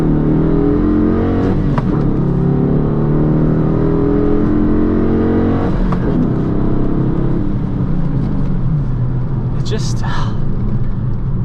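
A manual Dodge Challenger Shaker accelerates at full throttle, its engine a loud, steady rumble that holds through the whole stretch with shifts along the way, and talk runs over it.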